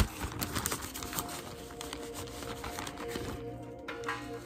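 Tarot cards are shuffled by hand, giving a string of quick, papery clicks and riffles that are busiest at the start and then continue more softly, with no talking.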